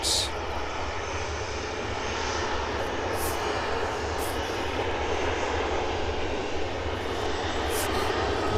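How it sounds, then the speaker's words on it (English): An aircraft departs an airport on a morning of live operations, its engine roar a steady, loud, broadband rumble that holds evenly throughout, close and continuous with no voices heard. "once this next aircraft departs out"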